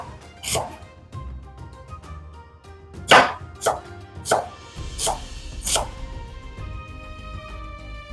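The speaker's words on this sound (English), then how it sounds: "we're just having brunoise from onions, yeah, one red onion" A knife chops a red onion into fine brunoise on a board: about six sharp, separate knocks spread unevenly over several seconds, close and fairly loud, over soft background music.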